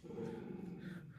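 A dog growls low and steady at close range, a short rumbling snarl over food with no talk.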